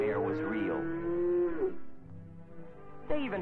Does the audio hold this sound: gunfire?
no